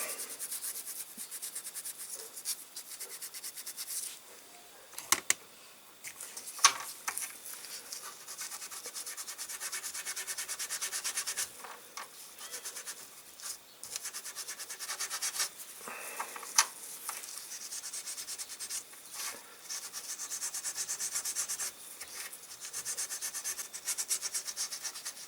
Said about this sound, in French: Je vais finir de la passer à la paille de fer.